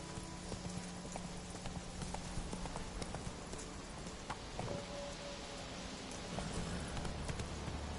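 Horse hooves clop steadily in The Witcher 3 at a moderate, even pace over a soft, rain-like game ambience with low music.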